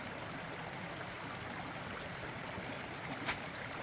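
Creek water at a wider trail crossing in the Great Smoky Mountains, a steady close rushing and burbling that fills the whole stretch evenly, with one brief louder splash near the end.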